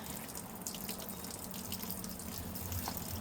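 Tap water runs steadily into a sink while agates from the Polka Dot Agate Mine are rinsed clean, a continuous broadband splashing hiss with a few faint drips standing out near the end.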